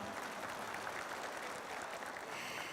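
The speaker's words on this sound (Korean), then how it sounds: "여러분 뜨거운 박수 부탁드립니다" Applause from the audience at a launch ceremony for a regional renewable-energy residents' cooperative in Jeollanam-do, a steady, fairly faint wash of clapping lasting throughout without pause.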